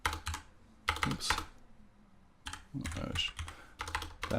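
Bursts of typing on a computer keyboard, clustered keystrokes clicking in quick runs separated by short pauses, close and fairly quiet.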